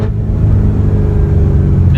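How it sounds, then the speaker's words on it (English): Drag race car engine revving hard during rev matching, a loud, deep rumbling drone close by, with a voice talking over it. "That rev match is working great."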